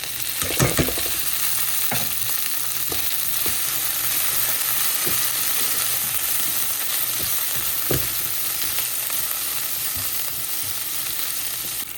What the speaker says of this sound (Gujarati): અને હવે આપણે નાખી દઈએ એમાં કોર્ન.